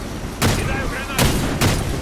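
Combat in the shooter game Warface, with a sniper in play. A grenade explosion and gunfire come as three sharp, booming bursts in two seconds, with a voice briefly audible in the mix.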